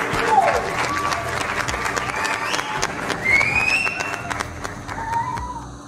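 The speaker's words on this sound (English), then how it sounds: "Let's have a round of applause, shall we?" Clapping and cheering from participants at a live art event, a lively, uneven round of applause with whoops and high excited voices rising over it for several seconds.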